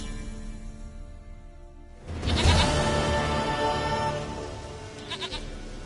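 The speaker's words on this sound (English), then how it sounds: "Goat of mine, dearest, sweetest goat." A video game goat gives out a loud, sudden bleat after a quiet stretch, followed by a fainter trailing cry near the end.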